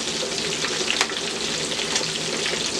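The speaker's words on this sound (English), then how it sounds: "It's been deep frying for about 3 minutes, and I will just start flipping it around." Turkey tails deep frying in oil on medium heat give a steady, dense sizzle with faint crackles and a couple of sharper pops, close and unbroken throughout with no voices.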